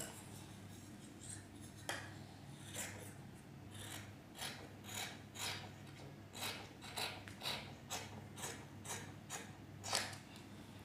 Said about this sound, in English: So right now I will cut the front armhole.